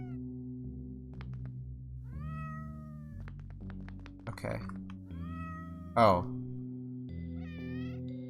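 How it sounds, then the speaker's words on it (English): Cats in the video game OneShot give a series of distinct synthesized meows, each with a different pitch contour, over a soft sustained musical backdrop, with a thump and a sharp chirp midway; a person speaks briefly. "all the cats make different sounds?"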